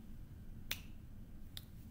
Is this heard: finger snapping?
yes